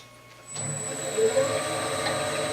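A shear scrape across a wooden bowl spinning on a wood lathe, a steady whirring hum with a thin scraping tone that begins after a short quiet start and continues evenly at moderate level.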